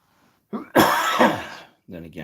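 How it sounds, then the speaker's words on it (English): A single harsh cough bursts out up close, followed by a short throaty follow-through, then a person begins speaking. "if I'm going to cough like that"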